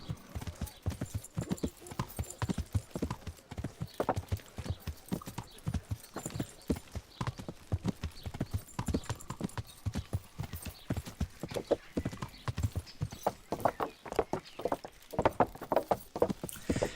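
Horse hooves clip-clopping in the medieval video game Kingdom Come: Deliverance, a steady walking rhythm of close, distinct hoof strikes continuing throughout with faint ambient background.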